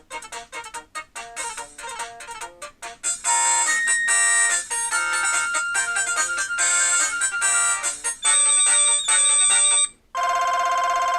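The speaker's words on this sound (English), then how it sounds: "So there's your ringtones that are built in" Several built-in ringtones from a 2007 Eten Glofiish X800 Windows Mobile smartphone play one after another, bright synthesized MIDI-style melodies with chiming tones, loud and close, with short gaps between tunes.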